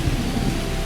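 Steady rain pours during a storm, with a low rumble of thunder rolling underneath, a dense continuous wash of sound with no speech.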